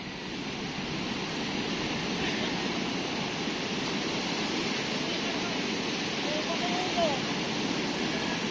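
Heavy sea waves churning around a fishing boat, a constant roaring rush of water with faint voices beneath it.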